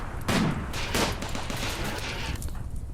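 Colonists trading gunfire with mechanoids in Rimworld, a brief flurry of rapid, overlapping shots, loud and close at first and then trailing off within a few seconds, with no talk.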